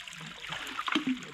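A small outdoor stream trickles and gurgles close by, with soft bubbling water sounds and a few brighter splashes near the end, alone without talk.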